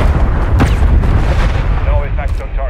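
An artillery fire mission strike in Call of Duty booms and rumbles heavily through the mix, with dense low explosions layered under radio-style voice chatter.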